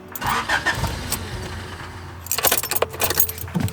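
Keys jingle near the start, then the engine starter of a third-generation Honda Prelude cranks in choppy bursts without the motor catching, close by and fairly loud.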